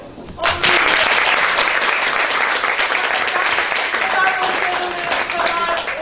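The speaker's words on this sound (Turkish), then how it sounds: "Mama hatuna bir alkışı." A sudden swell of audience clapping breaks out at a women's branch breakfast gathering of a regional federation, loud and sustained for several seconds with some talk mixed underneath.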